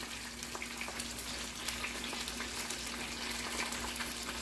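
Twice-frozen tofu frying in a pan, a steady, even sizzle of hot oil close by, constant and bubbling without pause, alongside a faint low hum.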